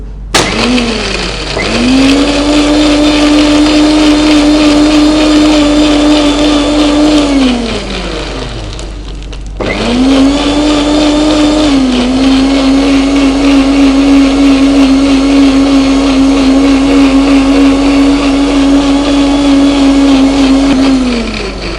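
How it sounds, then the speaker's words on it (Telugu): A kitchen mixer grinder blends jamun fruit with sugar, fennel seeds, water and ice cubes, its loud steady motor whine running in two long bursts separated by a brief pause, with no talking. "అన్నీ వేసుకొని ఇప్పుడు మనం మిక్సీలో"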